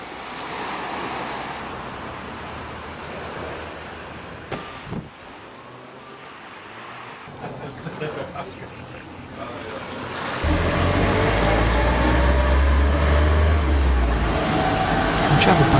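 Surf washing onto the beach at Paihia in the Bay of Islands, a steady broad roar with wind buffeting the microphone, swelling much louder in the last few seconds as a bigger wave breaks close by.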